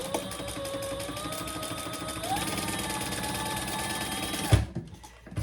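A sewing machine runs steadily, stitching vinyl for a leather-style handbag with a long stitch length, a fast even mechanical chatter that holds for about four and a half seconds before stopping with a clunk.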